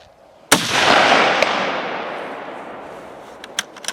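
A single sharp rifle shot cracks at an outdoor shooting range, its report rolling away in a long decaying echo, followed by faint clicks.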